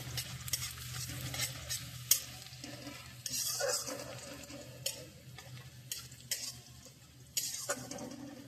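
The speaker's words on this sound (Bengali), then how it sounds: "এখান দিয়ে আমি ব্রেস্তা করার জন্য পেঁয়াজটা ভেজে নিচ্ছি" Onions frying in a pan for birista, a steady low sizzle broken by repeated clinks and scrapes of a spoon stirring, close and without any voices.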